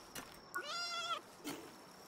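A cat-like Pal in Palworld gives one clear drawn-out meow, with brief faint clicks and game sounds before and after it.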